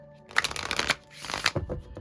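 Cards riffle-shuffled twice in quick succession, crisp fluttering bursts close to the microphone with a brief pause between them.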